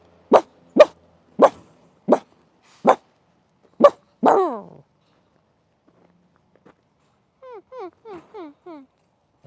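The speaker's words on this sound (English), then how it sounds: "I don't think they care about the barking." A dog lets out six sharp, evenly spaced barks and then a longer whine. After a quiet stretch, a series of short high whimpering yelps follows.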